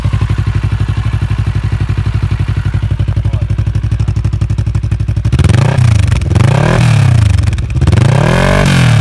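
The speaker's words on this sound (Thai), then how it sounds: "ฟังเสียงเครื่องนะครับ" A Kawasaki ER-6n motorcycle engine idles with a steady, even rumble, then revs up several times in rising and falling surges, loud and close.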